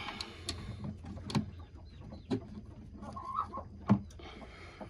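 A broody hen sitting on a warm egg gives low, grumbling clucks with a few sharper bursts, close and fairly quiet, with no talking.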